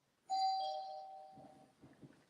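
A house doorbell chimes once, a clear sustained ding tone ringing out and slowly fading, followed by faint footstep-like knocks and room noise.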